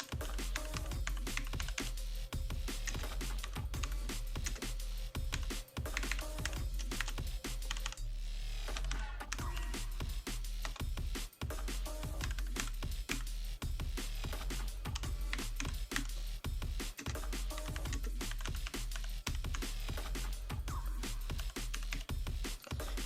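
Rapid clicking keystrokes on a computer keyboard as a command is typed, close and crisp, in steady bursts with short pauses, with no talk.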